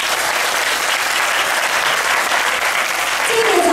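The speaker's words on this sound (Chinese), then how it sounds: "这个掌声来自于平台不到十八岁的同学" Dense, loud applause from an audience at a school film forum, a steady wash of many hands clapping throughout with no talking on top.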